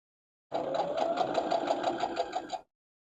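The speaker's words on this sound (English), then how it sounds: "we can just go and sew these together. Same thing, we're just going to go straight in with our 1/4 inch seam allowance." A sewing machine stitches quilt block pieces together along a quarter-inch seam, running in one steady, close burst of about two seconds between stretches of silence.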